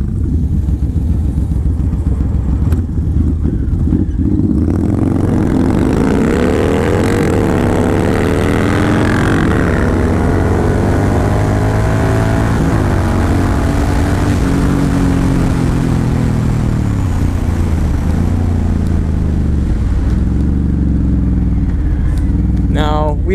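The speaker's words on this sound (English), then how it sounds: "We decided on this just to do a rolling drag race as opposed to a standing one." Two V-twin muscle cruisers, a Yamaha Raider 1900 and a Suzuki M109R Boulevard 1800, rev and accelerate hard in a rolling drag race, a steady loud engine roar that rises and falls through gear changes, with wind noise throughout.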